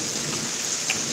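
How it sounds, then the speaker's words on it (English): Close thunderstorm in Pittsburg, Kansas: steady loud rain hiss with a rumbling thunder undertone, heard alone over a brief moment. "it's taking longer for the thunder to arrive"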